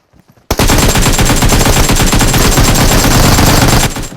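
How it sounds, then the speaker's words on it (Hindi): Sustained automatic gunfire in PUBG Mobile, a loud continuous rapid burst that erupts after a few faint shots and rattles on for over three seconds before cutting off. "आगे से मेरे को फायरिंग भी आती है"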